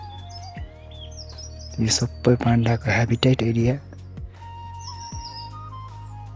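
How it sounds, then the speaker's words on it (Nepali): Small birds chirp and whistle in a dense bamboo forest within panda habitat, scattered thin calls at moderate distance, while someone speaks over them for part of the time. "ब्याकग्राउन्डमा सुन्दै हुनुहुन्छ होला चराहरूको आवाज छ।"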